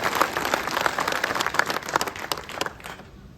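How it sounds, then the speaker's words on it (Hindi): Villagers applaud the seated village elders at a gathering, a dense, steady patter of many hands clapping that stays loud for a few seconds and then thins out toward the end. "इनके लिए जोरदार तालियां"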